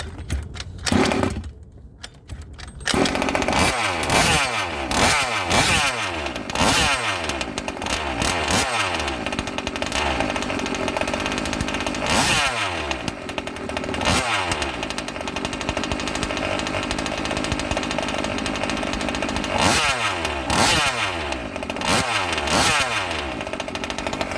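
A King Motors stock 30.5 nitro RC engine runs loud and close, its raspy buzz rising and falling through repeated blips after a brief quiet gap near the start, with no talk.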